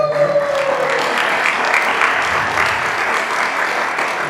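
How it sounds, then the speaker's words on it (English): Crowd applause at a demoparty opening ceremony: sustained, even clapping from a large audience in a hall, loud and continuous throughout with no voices on top. "Please give a round of applause."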